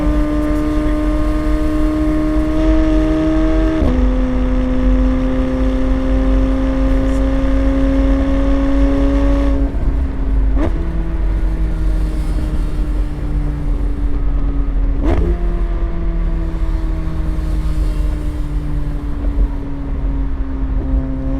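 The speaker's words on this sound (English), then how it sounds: "You can hear the turbo whistle." A loud car engine drones continuously, its pitch stepping down with each gear change, while a high turbo whistle rides steadily on top.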